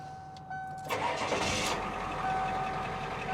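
A rescue truck's diesel engine cranks and catches at about one second, then settles into a loud, steady running rumble close by, with no talking.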